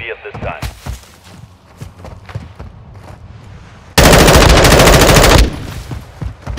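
Machine-gun fire in a shooter video game: a loud, sustained burst of rapid automatic shots, preceded by scattered single gunshots and footsteps, with a voice talking over the quieter stretch.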